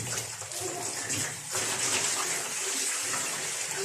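Tap water runs steadily over fresh tomatoes being rinsed in a kitchen sink, a continuous close splashing wash with no voices.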